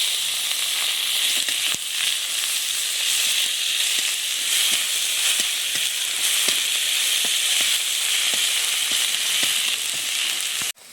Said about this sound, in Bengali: আর দিয়ে দিচ্ছি ফোড়নের জন্য জিরে, 3টে ছোটো তেজপাতা, পেঁয়াজ কুচি, রসুন থেতো,